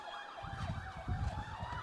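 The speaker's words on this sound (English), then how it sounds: "As the Belle Fourche ambulance is on assignment. You can probably hear that over the mic" An ambulance siren wails with a swooping rising and falling tone as it passes outside a small-town ballpark during a legion baseball game, steady and fairly clear, with low rumble underneath.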